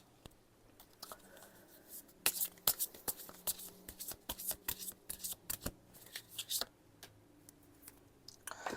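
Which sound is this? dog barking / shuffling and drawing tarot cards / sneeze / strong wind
shuffling and drawing tarot cards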